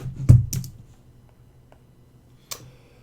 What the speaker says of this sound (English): Should not lean on the keyboard.